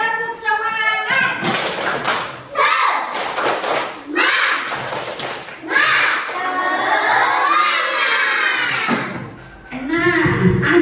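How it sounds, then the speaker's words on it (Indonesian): A grade 3 classroom of schoolchildren shouts a spirited chant in unison, with rhythmic clapping and thumps mixed into the loud, continuous group voices. "Tepuk semangat."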